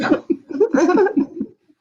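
A short fit of close coughing mixed with laughter, several harsh bursts in quick succession before trailing off.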